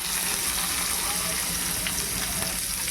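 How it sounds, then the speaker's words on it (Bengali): Onions, chillies and garlic sauté together in about two tablespoons of oil in a pan, a constant close sizzling hiss with faint stirring underneath. "পেঁয়াজ, লঙ্কা, রসুন সব একসাথে এখানে সতে করতে হবে"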